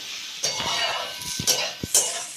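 Potatoes fry in a pan with a soft, steady sizzle, broken by a few sharp clinks and scrapes of stirring.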